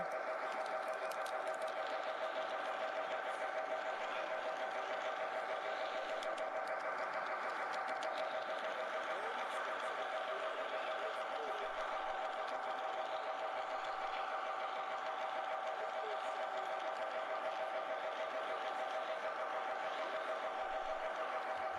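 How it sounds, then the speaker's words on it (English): Model steam locomotive A3A at a model railroad show, getting up steam and beginning to roll, heard as a steady mechanical hum and whir with no talk. "A3A is steamed up. You can see the headlight on. It's starting to move. A beautiful train."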